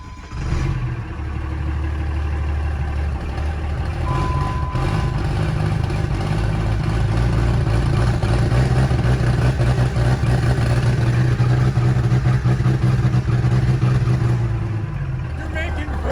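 A Cummins diesel engine runs loud and steady through its break-in, with a dense low rumble and mechanical clatter. Its pitch rises slightly partway through, and muffled voices sound beneath it.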